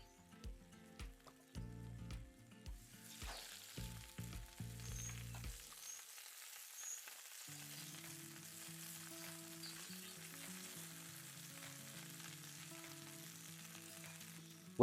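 Battered fish pieces being added to hot oil for Cape Malay pickled fish, with a few knocks and clatters at first, then a steady soft sizzle of frying that continues quietly under faint background music.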